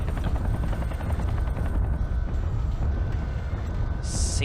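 Helicopters in the video game MechWarrior 3 with a continuous thumping rotor drone, loud and steady throughout, with a brief high burst near the end.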